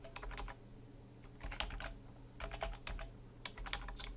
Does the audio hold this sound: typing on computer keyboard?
yes